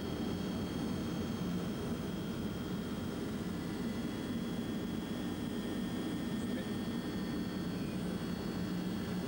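An airplane in flight, heard as a steady, even cabin drone with a constant engine hum and no breaks.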